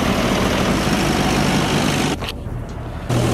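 A tractor engine idles close by with a steady, heavy low rumble, briefly dipping and then resuming near the end, with no talk.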